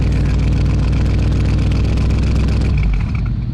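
Lamborghini truck engine revving hard, a loud, dense, continuous roar that stays close throughout and eases slightly near the end, with no voices.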